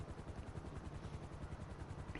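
A luxury helicopter in GTA Online, rotor blades chopping in a fast, regular pulse, steady and continuous but quiet and somewhat distant, with no voices.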